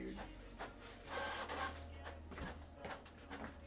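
A printer running during a Topps and Allen & Ginter trading card break, a low mechanical whir with rhythmic rubbing and feed strokes repeating for several seconds, fairly quiet with no talk over it.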